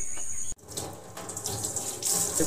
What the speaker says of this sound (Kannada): ಪಡೋಲಕಾಯನ್ನೆಲ್ಲ ಚೆಂದ ಈ ರೀತಿಯಾಗಿ ತೊಳ್ಕೊಳ್ಬೇಕು